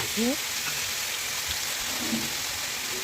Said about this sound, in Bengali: শুকনো লঙ্কা তেজপাতা একসঙ্গে, জিরা ফোড়ন একসঙ্গে আমি দিয়ে দিয়েছি। বেশ ভাজা ভাজা হয়ে গেছে।